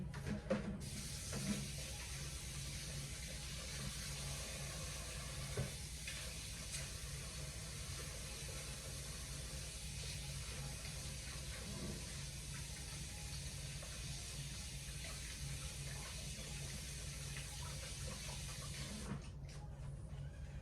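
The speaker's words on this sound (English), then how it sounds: "So let me put this in the sink and wash my hands." Tap water runs steadily into a kitchen sink while hands are washed, a quiet continuous hiss with small faint knocks and no speech.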